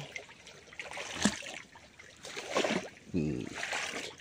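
Shallow forest stream trickling and gurgling over stones as someone wades through it, a soft continuous babble with brief louder splashes, close by, with a voice speaking intermittently.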